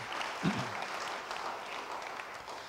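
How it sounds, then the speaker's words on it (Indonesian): A church congregation at an online Bible study service claps in a soft, sustained patter of applause, fairly distant and even, with a brief voice near the start. "Beri tepuk tangan yang baik bagi dia."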